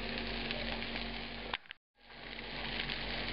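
Meatballs from a 1950s Italian restaurant recipe fry in a pan at medium heat, giving a steady close hiss and sizzle that briefly cuts out near the middle before resuming.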